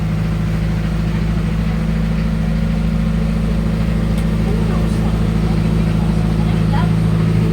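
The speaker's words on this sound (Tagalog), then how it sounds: "dahil sa makina ng bangka" A motorboat's engine drones loudly and steadily throughout on a trip to Manjuyod Sandbar, Negros Oriental, a close, rumbling engine with a constant low pulse and no pauses.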